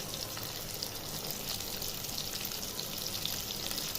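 Onions and shrimp frying in oil in a pot for a jackfruit-seed and bitter-gourd curry, giving a steady, even sizzle and crackle that holds at the same level throughout, close by and with no voices.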